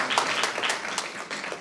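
An audience applauds at a ceremony: a short burst of scattered, fairly quiet clapping with distinct individual claps, some faint murmuring under it.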